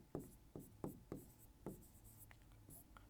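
Pen or marker writing by hand while working a polynomial division problem in a maths lesson, a series of quick scratchy strokes in uneven rhythm, close and faint, with no talk.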